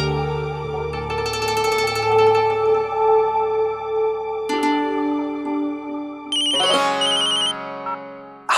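A phone plays a tonal ringtone melody that steps through sustained notes, loud and close, ending in a brighter chiming pattern, with no speech.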